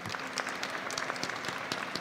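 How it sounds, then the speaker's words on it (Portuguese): Audience applause at a startup conference session, steady scattered clapping throughout, moderately quiet with no talk over it. "Palmas para Washington."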